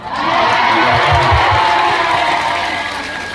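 An audience at an Islamic religious lecture in Taiwan breaks into applause and cheering, a loud burst of clapping and voices that swells, holds steady, then begins to fade.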